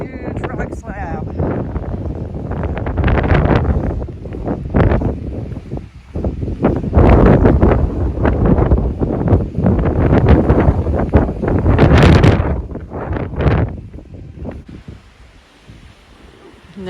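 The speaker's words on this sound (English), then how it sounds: "Very windy here" Strong, ferocious wind blasting across a huge rock slab on the Appalachian Trail, loud gusty roaring that rises and falls in surges against the microphone, with a voice faintly mixed in.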